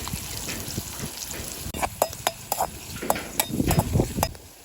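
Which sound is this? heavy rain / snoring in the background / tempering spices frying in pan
tempering spices frying in pan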